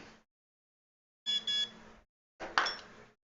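Two short electronic beeping bursts from a worn-out, battered old alarm, each a rough buzzing tone with brief silence between, fairly close and alone.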